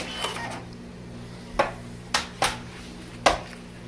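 A label printer runs off a batch of labels, giving several sharp mechanical clicks and short whirring bursts, spaced irregularly over a low steady hum, fairly quiet and close by.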